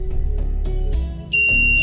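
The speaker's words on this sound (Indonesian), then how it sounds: "Nah, sebentar lagi akan menyalakan buzzer." An electronic buzzer triggered by a temperature sensor on a LoRa project board switches on partway through, a steady high-pitched tone over a low background hum and faint ticking, with no talk.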